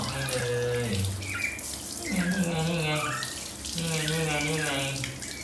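Running water from a tap rinses a Pomeranian dog during a bath, a steady loud splashing stream, with someone talking over it.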